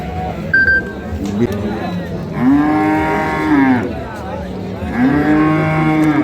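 At a cattle market, an improved-breed dairy cow gives two long, loud, close moos, while people haggle and talk nearby throughout.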